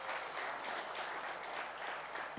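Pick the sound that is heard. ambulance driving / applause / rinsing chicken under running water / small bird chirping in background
applause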